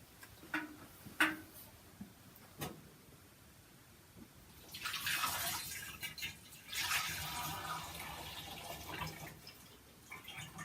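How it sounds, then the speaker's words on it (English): Leftover water from homebrewing equipment is dumped into a glass growler, a couple of hissy, splashing pours after a few sharp ticks and knocks, fairly faint in a quiet room. "I'm going to dump it into a glass growler and see what I'm left with."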